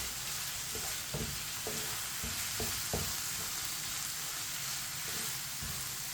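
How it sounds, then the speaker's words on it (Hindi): Long-cut green chillies sizzle in hot oil in a frying pan over a lowered flame, a steady hiss of frying with a few soft, intermittent scrapes and knocks as they are stirred in. "सब्ज़ मिर्च को भी मिक्स कर लेंगे"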